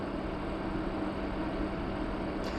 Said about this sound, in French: Là, c'est le bruit du ventilo qu'on entend.